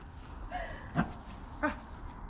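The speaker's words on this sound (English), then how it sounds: "I'm the fastest wiener dog ever" A dachshund whimpers close by, two short whiny cries about half a second apart over a low background hum.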